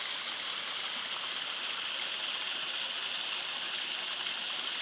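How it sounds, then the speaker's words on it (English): Waterfall number five on an Ozark stream in spring, swollen by recent snowmelt, rushes in a constant, loud hiss heard from the top of the falls, with no voices. "Thought I would show you waterfall number 5 from the top."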